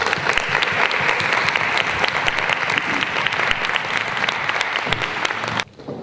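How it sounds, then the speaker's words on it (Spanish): An audience claps for teachers at a Teachers' Day talk, a dense, loud and sustained round of applause that stops abruptly near the end. "Yo lo primero de todo pediría un aplauso para todos los profesores"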